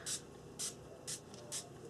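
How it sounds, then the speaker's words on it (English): Yellow and orange Dylusion ink spray is misted onto a journaling page in four short, evenly spaced, close hissing bursts, with no talking. "spray it onto my journaling page because it needs a little bit of color"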